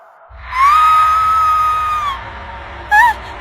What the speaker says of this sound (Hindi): बहुत जोरों से चिल्लाई